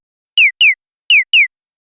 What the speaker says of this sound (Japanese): ヒヨコ、